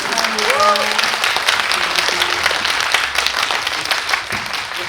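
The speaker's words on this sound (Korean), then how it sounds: "우리 믿고 보는 배우 천우희 배우님에게도 큰 박수 부탁드리겠습니다" A cinema audience at a Q&A for the film Anchor claps loudly for actress Chun Woo-hee, a sustained wash of many hands close by, with a voice briefly heard over the start.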